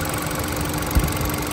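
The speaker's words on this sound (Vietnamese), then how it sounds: "chậm rãi cho các bác thấy máy nổ êm thế nào" The 1.4-litre engine of a 2018 Hyundai Accent automatic idles smoothly, a steady, even mid-range hum with a faint vibration, close up and with no talking.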